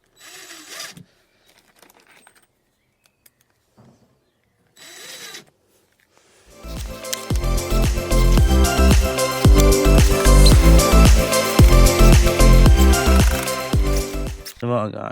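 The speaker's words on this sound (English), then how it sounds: "a 5mm drill bit which I'm using for my spacer" A drill with a 5mm bit bores into decking while building a play area, a loud, steady grinding run lasting about eight seconds, close by, after a quiet stretch with brief voices and short knocks.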